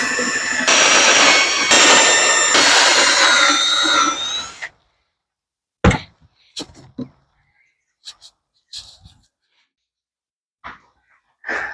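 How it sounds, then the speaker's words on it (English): A power drill runs steadily for about four seconds, boring holes through wood held in a jig for home office cabinets. A few brief knocks and clicks from handling the workpiece follow in near silence. "we'll drill the second batch of holes."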